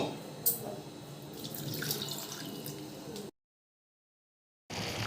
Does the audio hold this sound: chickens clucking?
no